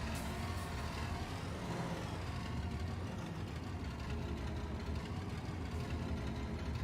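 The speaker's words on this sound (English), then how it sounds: "This tractor sounds so good." A tractor engine in the Farming Simulator 22 video game rumbles at a steady, loud, low drone throughout, heard alone.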